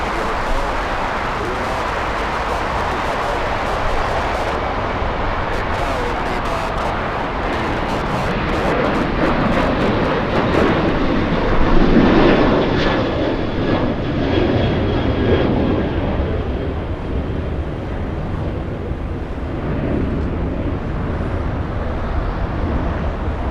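Korean airliner taking off on the shortest runway at LAX, a steady, broad jet roar that swells near the middle and holds loud throughout, with no talk over it.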